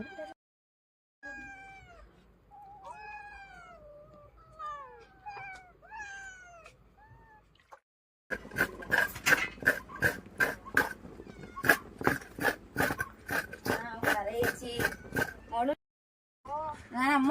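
A cat meows repeatedly, rising and falling cries up close, followed by a stretch of sharp clattering knocks with more meows threaded through.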